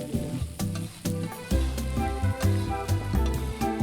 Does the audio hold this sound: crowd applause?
no